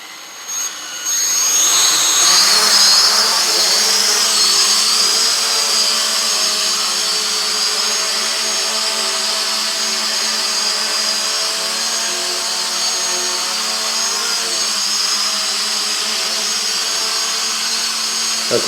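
Hubsan H502E GPS camera drone hovering indoors in a living room, a loud steady high-pitched propeller whine and motor buzz that holds constant throughout, close by and alone.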